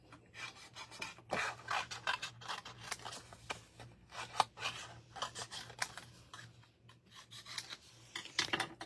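Scissors cut down die-cut paper pieces at close range, giving a series of crisp snips and rubbing rasps in irregular bursts. A faint steady hum sits underneath, and no one talks.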